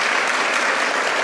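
Audience applause at an International Women's Day address, a loud, dense and continuous wash of many hands clapping close by, steady across the whole moment.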